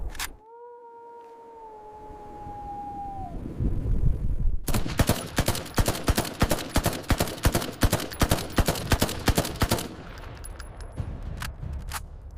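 Gunfire in an army battle scene: after a few seconds of wavering tones and low rumble, a loud burst of rapid automatic fire erupts, with dense evenly spaced shots hammering for about five seconds before fading into a lingering, noisy aftermath.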